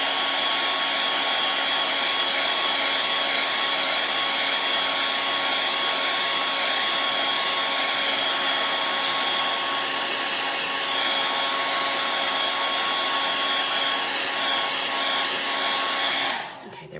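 Hair dryer blowing steadily to dry fresh paint on a door hanger, a loud continuous whirring rush that holds for most of the stretch and then cuts off abruptly near the end.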